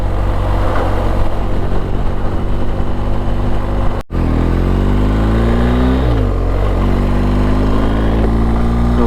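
A BMW R 1250 GS motorcycle rides down a main road, its engine droning loud and close with a brief gear-change dip, then the pitch sweeping upward as it accelerates.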